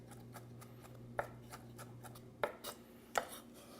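A knife chopping capers on a cutting board, a few faint crisp cuts scattered irregularly over a quiet kitchen hum.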